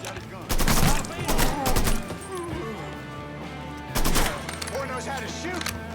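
Gunfire in the Mafia III video game, loud clustered bursts of shots near the start and again around the four-second mark, with lighter impacts in between.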